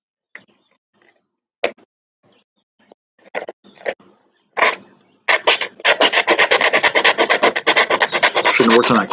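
Sanding a wooden homemade sliding door handle, starting with a few scattered scrapes and then settling into a steady, loud back-and-forth rasping rhythm close by, with no talking.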